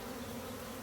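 A swarm of bees buzzing steadily during removal from a dune buggy, a dense continuous drone close by with no talk.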